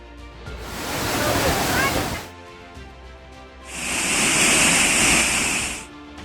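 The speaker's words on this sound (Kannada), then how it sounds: "ಮುಂಗಾರಿನ ಮೊರೆತಕ್ಕೆ ಜಲಪಾತಗಳು ಕೂಡ ಧುಮ್ಮಿಕುತ್ತಿವೆ" Monsoon-swollen waterfalls in Karnataka roar as a dense, broad rush of water, rising in two loud surges separated by a quieter gap.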